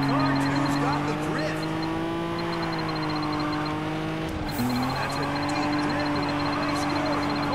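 Car engine in the Juiced 2 racing game, a Nissan 350Z Veilside or Skyline R32 set up for drifting, holds a loud steady tone that rises slowly, drops sharply, then climbs again, with game music and talk over it.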